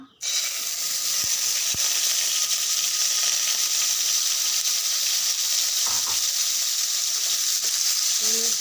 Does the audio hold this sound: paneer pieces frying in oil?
yes